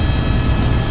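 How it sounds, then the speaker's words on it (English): Loud, dense rotor and engine roar of a helicopter flying over Niagara Falls, a steady close broadband wash with no talk. "Helicopter right now over Niagara Falls."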